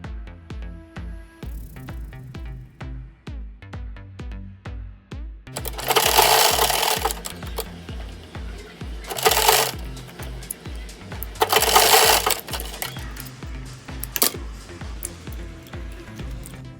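A sewing machine hems fabric with a steady, fast mechanical chatter close by, broken by bursts of louder rattling as it speeds up, with no voices.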